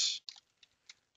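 Keys being tapped on a computer keyboard for a Ctrl F shortcut: a short hissy burst followed by a few faint, quick clicks in an otherwise quiet room.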